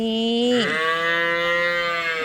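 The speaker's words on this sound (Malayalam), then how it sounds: "രണ്ട് പശുക്കൾ പോണ് കണ്ടപ്പോൾ നമ്മുടെ കുഞ്ഞി പശുക്കുട്ടി കരയണ കണ്ടോ" A young calf gives one loud, drawn-out moo close by that dips in pitch and trails off, with no other voices over it.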